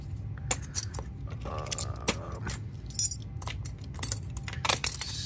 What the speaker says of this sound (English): A few more keys here.